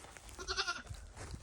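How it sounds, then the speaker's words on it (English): Baby goats at a ranch bleat in a short, high, wavering cry that peaks near the middle, close and fairly loud against faint outdoor background. "The baby goats are here."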